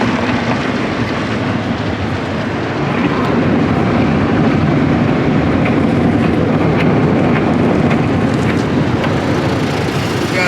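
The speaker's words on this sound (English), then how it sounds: "Some wheel blasters going on." High-pressure wheel blasters spray inside a Peco tunnel car wash in Las Vegas, a dense, continuous roaring hiss of water and machinery heard up close, loud and unbroken throughout.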